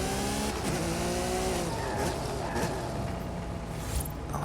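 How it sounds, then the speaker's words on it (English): Racing video game car engine drones loudly and steadily behind the player, with revving harmonics sweeping up and down and a brief tire squeal, mixed with other game sounds. "this car is coming behind me here"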